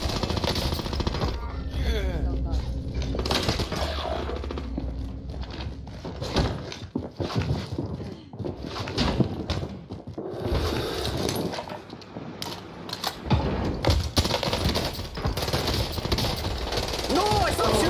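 Rapid bursts of assault rifle fire in a Call of Duty Warzone match, clattering in dense overlapping volleys across the whole stretch under steady, excited talk from players.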